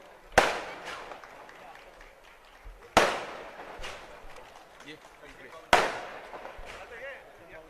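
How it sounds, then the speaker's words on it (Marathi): Firecrackers burst at a Shiv Sena youth-wing rally, three sharp loud bangs spaced a few seconds apart, each trailing off in crackle over a noisy crowd background. "थोडं फटाके थांबवा जरा"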